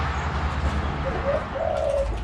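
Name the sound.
spotted dove cooing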